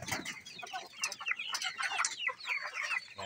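Silkie hens and two-month-old chicks clucking and peeping together in a breeder pen, a busy overlapping chorus of short chirps and clucks, fairly close and continuous.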